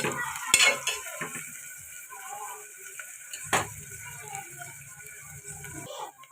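Sliced onions, green chillies and curry leaves fry in a pan for a spicy Telangana-style boti curry. A soft, low sizzle runs throughout, broken by a few louder clinks and scrapes of a spoon stirring.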